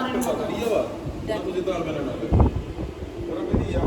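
Strong, cold wind buffets the microphone outdoors amid rain, producing rough, gusting rumbles that swell and fade in bursts, with people talking over it.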